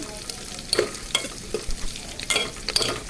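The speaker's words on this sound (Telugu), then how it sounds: "ఇప్పుడు మనం అవి బాగా వేగేంత వరకు కలుపుకోవాలండి" A spatula scrapes and clinks against a pan in several quick strokes over a steady, close sizzle of dried chillies frying.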